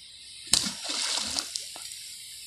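An object thrown into a pool lands with one sharp, close splash, followed by a second or so of sloshing and spattering water before it quiets, with no talking.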